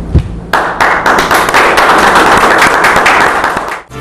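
Loud, dense applause for composer Paulo Debétio, a thick continuous wall of many hands clapping close by, with sharp individual claps popping out through the whole stretch and no talking over it.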